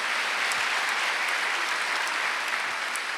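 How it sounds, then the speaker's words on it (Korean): Continuous, dense applause from a church congregation during a Wednesday worship service, many hands clapping steadily at an even level throughout, fairly loud and filling the room. "박수 하세요. 제사 절대로 지내면 안 됩니다."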